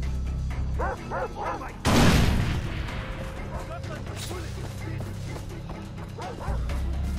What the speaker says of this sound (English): Fucking dog is chasing me too